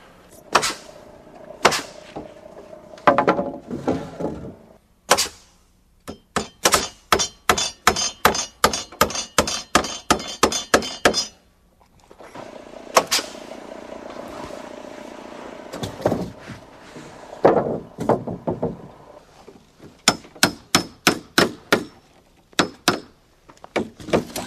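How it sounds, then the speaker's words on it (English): Deck boards being nailed around an entry, with bursts of sharp, evenly spaced hammer blows in quick rhythmic runs, separated by pauses and quieter handling noise. "Here, we're nailing boards around the entry."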